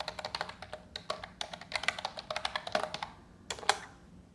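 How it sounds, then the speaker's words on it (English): Computer keyboard typing heard up close as a quick run of sharp clicks, with short pauses and a final pair of harder taps, no speech. "I can type that in faster."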